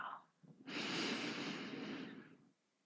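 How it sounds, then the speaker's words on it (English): One long, deep breath during a breathing exercise, drawn in and released as a loud, close airy rush lasting about two seconds after a short lead-in, with no words spoken. "you can continue breathing like this a little bit longer"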